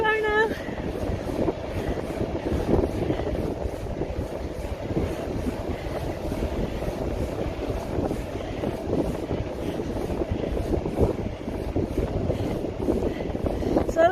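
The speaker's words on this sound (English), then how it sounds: "So it's a bit too windy for me to hear clearly." Steady, loud wind roar buffets the microphone while riding a bicycle along a residential road, a dense rumbling wash that runs unbroken from start to finish.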